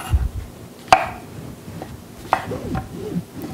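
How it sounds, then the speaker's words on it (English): A knife quartering mushrooms on a cutting board makes two crisp taps about a second and a half apart, with softer muffled knocks between, close and otherwise quiet. "Now, some recipes may call for quartered mushrooms,"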